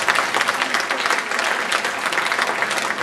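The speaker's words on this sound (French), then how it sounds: "que je vous demande d'applaudir" A crowd at a Paris-region political rally applauds for the mayor of Gagny, producing dense, steady clapping that stays loud and even for the full three seconds with no voices over it.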